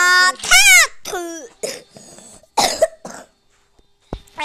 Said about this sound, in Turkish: Öksürdüm bu arada.